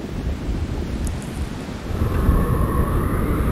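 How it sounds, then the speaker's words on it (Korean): A strong wind roars and buffets the microphone during a paraglider flight over the Himalayas as storm clouds build. The low rushing noise is loud and continuous, grows stronger toward the end, and no one speaks. "바람 소리도 점차 거세집니다."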